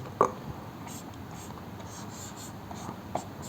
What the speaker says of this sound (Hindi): फिर से लिख रहा हूँ